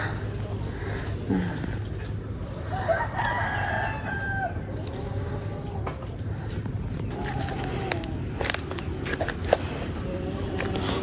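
A rooster crows a few times at a distance over steady outdoor background noise near a chicken coop, with faint clucking and scattered rustling nearby.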